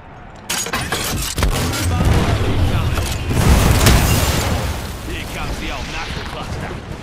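Grenade blasts in the Apex Legends video game during a team deathmatch, with dense, heavy booms and crackling debris rolling continuously for several seconds, loud and close, with a sustained rumble.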